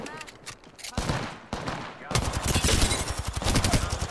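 Gunfire in an Apex Legends match: scattered single shots, then a dense sustained burst of rapid automatic fire that grows louder and continues to the end, with a voice talking faintly beneath.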